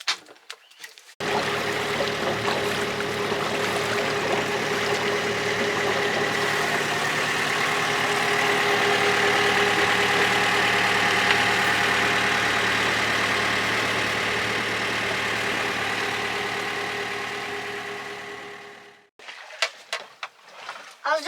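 A fishing boat engine drones steadily at sea off Seferihisar for most of the stretch, a constant mid-low hum that starts abruptly and fades out near the end.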